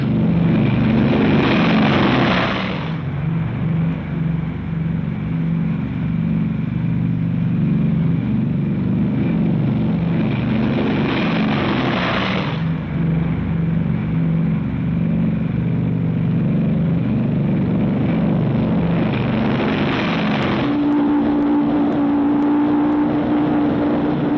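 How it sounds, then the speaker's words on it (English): World War II B-29 bombers taking off one after another, a loud sustained drone of heavy piston engines with repeated swelling roars as each aircraft passes, no speech. "The 314th is airborne. 145 planes, 1 minute apart, 67 tons each."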